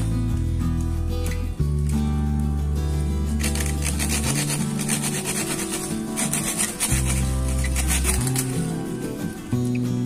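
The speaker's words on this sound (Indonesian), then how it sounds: "menggunakan gergaji terus." Rhythmic rasping saw strokes cut through a coconut palm bonsai trunk, clearest in the middle, under a loud background of music.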